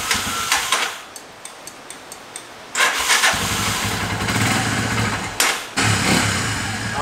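KTR150 motorcycle engine fitted with a new rectifier and DC ignition, a starter whirring briefly, then the engine catching and running loud and close with a short dip and restart of the roar near the end.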